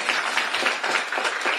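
An audience claps through a political talk in the U.S., a short run of steady, dense applause that holds at an even level with no voice over it.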